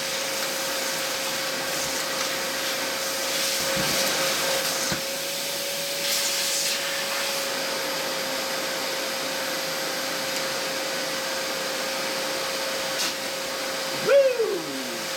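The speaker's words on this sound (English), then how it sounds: "Good suction, eh? Bottle top, all sorts of things. There, sucked up everything" A Shop-Vac wet/dry vacuum runs with a steady drone, pulling up nails, a bottle top and other debris; a brief rattle or clatter of sucked-up objects stands out near the end.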